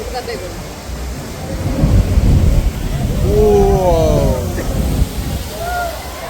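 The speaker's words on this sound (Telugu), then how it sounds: "ఇక్కడ ఈ రాళ్ళ మీద అలలు తగిలి నీళ్లు మీద వరకు లభిస్తాయి" Ocean waves crashing on rocks near Ensenada, Mexico, a loud, low rushing roar that swells and recedes, with people talking close by.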